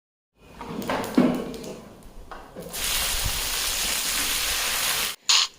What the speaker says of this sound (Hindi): करेले को तड़का भी मैंने डाल दिया